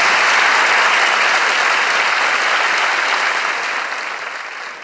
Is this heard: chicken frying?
no